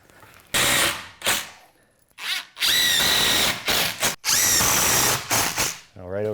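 Power drill driving 2.5-inch screws into scrap wood while a garage workbench is assembled: several loud bursts of whirring with ratcheting bits, separated by short pauses and handling sounds.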